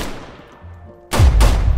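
Two heavy gunshots fire in quick succession in the Roblox game, loud and booming with a sharp attack, following a quiet stretch with no talking.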